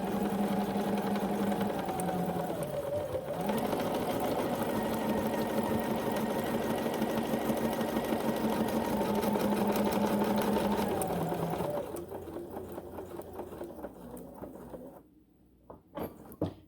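A BERNINA sewing machine with a 46 C foot stitches corded pintucks, running in a fast steady whirring rhythm with a brief pause, then slowing and stopping near the end, close and clear.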